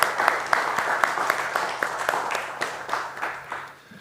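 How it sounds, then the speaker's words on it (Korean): A church congregation at a Sunday service claps in unison, sharp regular beats at a brisk pace that gradually fade as the applause winds down. "우리가 하나님께 감사와 영광의 박수 올리겠습니다."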